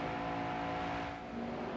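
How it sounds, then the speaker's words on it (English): In-car engine audio from Benny Parsons's NASCAR stock car at the 1980 Daytona 500, a steady, droning engine roar heard faintly for a moment with no talking. "heard the audio from in the car of Benny Parsons"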